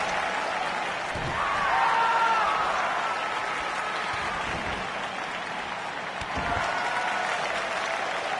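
A passionate crowd at a wrestling pay-per-view in a Tokyo arena applauds and roars in a continuous, loud wash of cheering that swells slightly, with faint whistles and indistinct talk mixed in.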